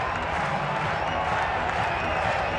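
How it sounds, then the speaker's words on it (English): A sold-out baseball stadium crowd down the first and third base lines claps in unison, a dense, steady wash of crowd noise and applause with no clear individual voices. "And now the fans down the first base and third base line get louder, and now they start to clap in unison."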